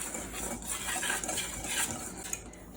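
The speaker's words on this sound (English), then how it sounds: "I'm going to sort of whisk this together just to sort of get everything incorporated nicely" A whisk stirs dry cornbread ingredients in a bowl, and the metal tines make a quick, steady scraping and clinking against the sides. The sound is close and fairly soft, with no talking.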